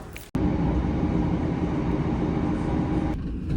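A train runs along rails with a loud, continuous rumbling roar that starts abruptly after a brief gap and holds steady, heard from inside or very close.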